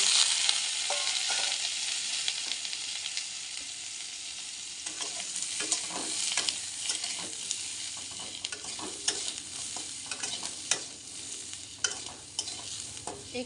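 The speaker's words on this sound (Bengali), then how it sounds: "তেলটা ভালোভাবে গরম হয়ে গেছে। এই পর্যায়ে পটলগুলোকে দিয়ে দেব।" Pointed gourd pieces frying in well-heated oil, a loud, continuous close sizzle with repeated scraping stirs from a spatula throughout, no voices.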